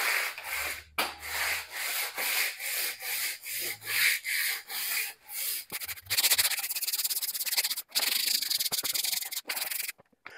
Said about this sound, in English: I will sand the shaft to make sure that it's nice and smooth and round